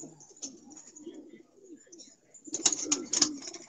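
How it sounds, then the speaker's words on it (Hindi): A Rampuri pigeon in a home loft gives soft, low cooing calls under a steady high hiss, with louder, fluttery rustling and cooing bursts near the end. "ये है जी अदनान शिराज के घर का रामपुरी कबूतर"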